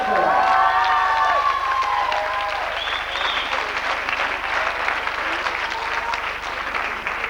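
A theatre audience applauds steadily with scattered cheers and whoops at curtain call, beginning with a brief shout over the clapping.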